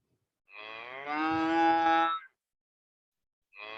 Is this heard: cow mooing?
yes